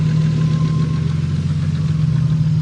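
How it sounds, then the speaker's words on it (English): A car engine idles steadily up close in the engine bay of a used Japanese car at auction, a constant low hum with a faint higher whine, loud and unbroken, with no talking; the engine runs poorly. "the engine does not sound the best at all"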